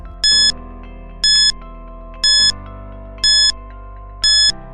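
A quiz countdown timer in an English lesson sounds five evenly spaced electronic alarm beeps, about one per second. Each beep is loud and bright over a steady low tone, with no voices.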